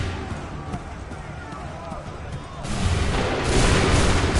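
Musket volley fire on an Assassin's Creed 3 battlefield, booming discharges that swell into a louder roaring burst near the end, heard beneath shouted commands and spoken voices.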